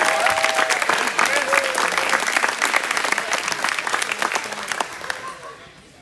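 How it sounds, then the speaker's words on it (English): Crowd applause for a gymnast at a men's NCAA gymnastics meet, a dense, steady patter of many hands that holds for most of the stretch, with some voices mixed in, then thins and fades toward the end. "Let's give a round of applause for Christopher Duane."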